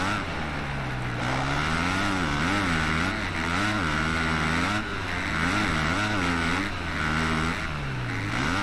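Kawasaki motocross bike engine in MXGP 2021, racing the Teutschenthal track in Germany, drones steadily and loudly throughout, its pitch swinging up and down in repeated waves as the throttle rises and falls.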